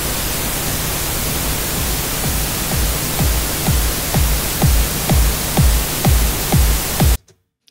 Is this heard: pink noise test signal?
yes